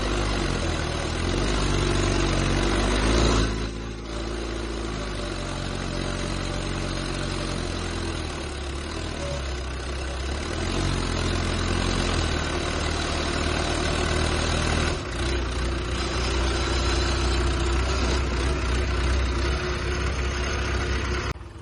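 A tractor engine runs steadily and close by, stuck at a sugar factory site, its loud low rumble holding throughout with a brief dip in revs partway through.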